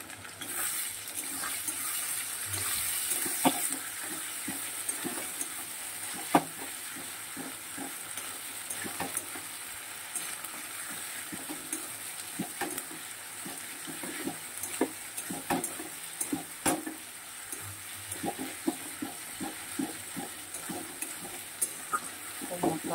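Spice paste of ginger and cumin, with salted fish, fries in a pan: a soft steady sizzle broken by frequent scraping and clicking as a spoon stirs, faint and close.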